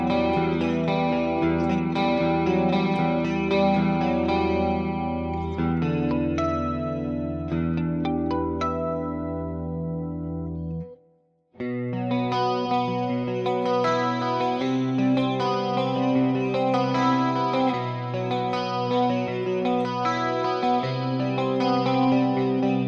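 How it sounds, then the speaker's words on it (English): An Ibanez AZ24S1F electric guitar plays single-note lines through a shimmering chorus effect, notes ringing and overlapping, with a brief silent gap near the middle before the phrase resumes loud and close. "some single note. With a little bit of chorus."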